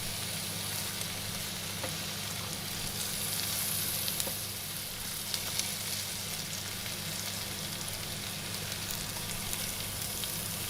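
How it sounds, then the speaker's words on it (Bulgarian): Mushrooms braise in a pan, shifted gently with a spoon, giving a soft, steady sizzle with faint scraping stirs throughout, fairly quiet and without talk. "Полека с лъжичката ги размествам, за да могат да се задушат всичките гъбки"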